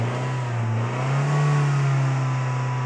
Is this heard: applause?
no